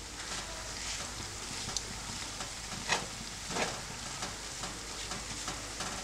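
Burdock root, lotus root and carrot sizzle steadily as they are stir-fried in sesame oil for tekka miso, with soft rustling stirs and occasional scrapes, fairly quiet and without talk.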